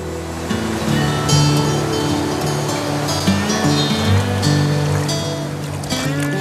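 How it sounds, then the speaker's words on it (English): The Brazos River in Texas flows with a steady, broad wash of moving water that stays loud and continuous, with a low tonal hum running beneath it. "This is the Brazos River in Texas."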